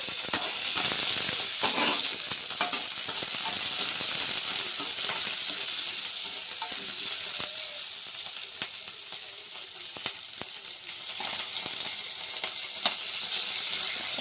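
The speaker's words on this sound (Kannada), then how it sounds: "ಆಮೇಲೆ ಇದು ಬೆಳ್ಳುಳ್ಳಿ, ಆಮೇಲೆ ಗ್ರೀನ್ ಚಿಲ್ಲೀಸು ಹಾಕಿ ಚೆನ್ನಾಗಿ ರೋಸ್ಟ್ ಮಾಡ್ಕೋಬೇಕು." Garlic and green chillies roast in a hot pan for ridge gourd chutney, giving a steady, close sizzle and hiss with occasional stirring clicks and no voices.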